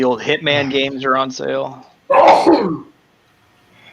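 Someone speaks briefly, then after a short pause a single loud, close sneeze bursts out and trails off into quiet.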